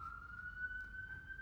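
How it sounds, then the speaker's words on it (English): An emergency siren passing outside, a faint, distant steady wail slowly rising in pitch over a low background hum, with no one talking. "There's a siren outside."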